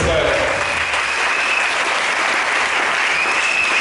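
A church congregation applauds during a Sunday worship service, a dense, sustained wash of clapping that fills the room at steady volume throughout.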